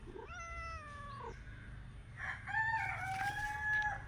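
A cat meows outdoors at night, a short wavering call followed by a louder, drawn-out cry, heard fairly near against low background hum, with a rooster-like tone blending in.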